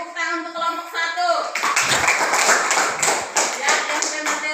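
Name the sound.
applause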